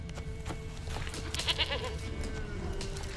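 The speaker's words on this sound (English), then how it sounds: "Here, goat." A goat in The Witcher 3 bleats in a short wavering cry over steady game ambience and low background rumble, fairly close and moderately loud.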